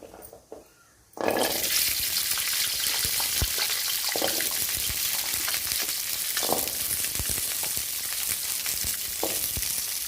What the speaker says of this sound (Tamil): இப்போது எண்ணெய் ஊற்றிக்குவோம். அடுத்து நம்ம வெங்காயம் போட்டுக்கலாம்.